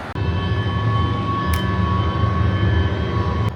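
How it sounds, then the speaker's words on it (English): An old tram rolls past on a street in Riga, a loud steady rumble with a sustained metallic whine and a brief squeal partway through, continuous throughout with no talk. "Old trams, look at that."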